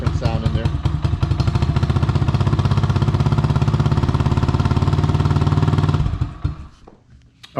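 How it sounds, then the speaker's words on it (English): A Honda Grom clone motorcycle with its factory exhaust runs at a steady idle with a fast, even putter, loud and close. It holds for about six seconds, then cuts off into quiet rustling. "That's the factory exhaust. Not too bad. Once you're riding it, it's pretty loud"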